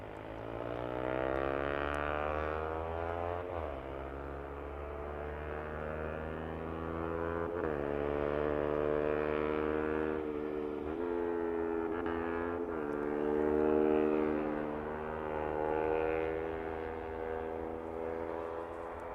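An aircraft approaching to land at East Midlands Airport gives a steady, loud engine drone with layered tonal whines that shift slightly in pitch, swelling a little toward the end, with no voices.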